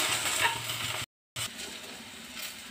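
Spices of turmeric, coriander powder and sabzi masala being stirred into okra frying in a pan, with a steady close sizzle and scraping stir strokes, broken by a brief silent gap.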